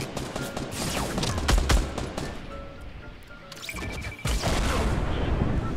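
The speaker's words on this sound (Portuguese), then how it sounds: "tô levando tiro lá do morro" Gunfire in the battle royale game Fortnite, rapid bursts of shots and impacts crackling in the distance from a hill, a continuous busy fusillade with intermittent louder cracks; no talk.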